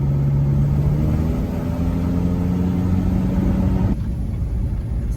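Engine of a Ford Ranger running steadily while driving, then its tone drops abruptly near the end as it cuts out from an intermittent fault, the drone continuing at a lower, rougher level.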